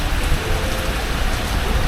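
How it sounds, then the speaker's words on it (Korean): Heavy summer downpour pours down steadily, a dense, loud hiss of drops drumming on surfaces close by. "갑자기 소나기가 엄청 내리는데"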